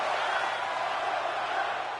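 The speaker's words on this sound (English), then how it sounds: "Crowd chanting one more time." Wrestling crowd at an outdoor blacktop match, chanting and cheering as a dense, sustained roar of many voices.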